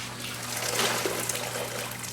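Boiling water drains and trickles off freshly scalded chickens, a soft, steady dribble and splash heard close and faint with a low background hum.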